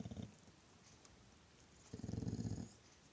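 A dog growls low and close by in two brief rumbling bursts, the second longer and louder, against a quiet room background.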